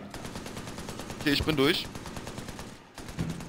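Machine gun fire in Army of Two: The Devil's Cartel, a co-op shooter, with bursts of shots and game effects mixed under steady German co-op chatter, a brief louder burst midway.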